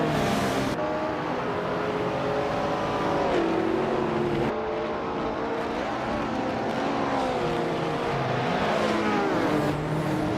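Race cars in a video game engine roar and rev steadily, with rising and falling pitch as gears shift, loud and continuous throughout with no talk.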